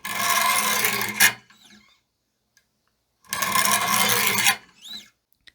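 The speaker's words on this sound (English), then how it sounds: "build a burr on one side, build a burr on the other side, then switch to 200 and work my way up." Knife sharpening on a Wicked Edge Generation Pro 4 with coarse stones: two close, loud bursts of gritty rasping strokes, each about a second long, separated by a quiet pause and faint scraping.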